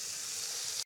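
Vegetables sizzle and fry in a very hot wok, a brief, steady hiss of frying with no talk.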